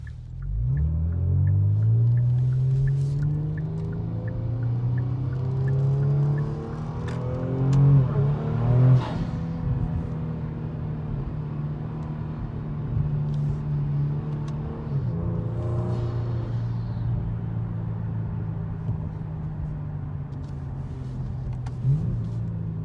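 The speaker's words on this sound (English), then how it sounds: "This is my first attempt at trying to capture the exhaust sound." Kia Stinger exhaust note while the car accelerates, a loud continuous drone with climbing engine tones, an upshift near the middle and a steady pull after it, with no talking.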